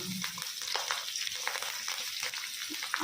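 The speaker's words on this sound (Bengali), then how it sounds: "কালো জিরে আর কাঁচা লঙ্কাটা একটু ভাজা ভাজা করে নেবো" Steady crackling sizzle of nigella seeds and green chillies frying in hot oil, continuous and close, with faint stirring scrapes.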